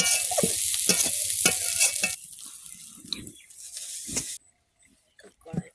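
Prawns sizzle and crackle as they fry in hot oil in a pan on a gas stove, with stirring noises and a voice talking over the loud frying before it cuts off abruptly.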